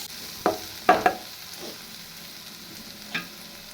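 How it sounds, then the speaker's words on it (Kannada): Onions and tomatoes fry in oil in a kadai under a low background sizzle, with a few sharp stirring clacks: one, then a quick pair, and a last one after a pause. "ಅದೇ ಕಡಾಯಿಗೆ 2 ಈರುಳ್ಳಿ, 2 ಟೊಮೊಟೊ ಹಾಕ್ಕೊಂಡು ಚೆನ್ನಾಗಿ ಫ್ರೈ ಮಾಡ್ಕೊತಾ ಇದ್ದೀನಿ."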